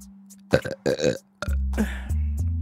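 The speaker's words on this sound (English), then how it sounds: "I'm gonna burp now." A long, loud, deep burp rumbles close to the mic for over a second after some brief talk.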